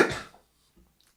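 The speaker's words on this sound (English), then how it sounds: "Now you got me coughing" One short, harsh cough bursts out loudly at the start, then fades into near silence with a faint follow-up breath.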